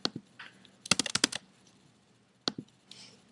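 Computer keyboard keys click in short bursts, with a quick cluster of several sharp taps for copy-and-paste shortcuts and arrow presses, followed by a few isolated keystrokes, close and fairly quiet with no talking.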